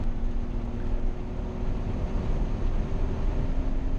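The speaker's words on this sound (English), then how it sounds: "Full throttle, and we are on to finish our lap and start our next one" A BMW E36 M3 runs at full throttle around the High Plains Raceway track, a loud, steady engine drone heard from inside the car, mixed with wind and road roar and no talking.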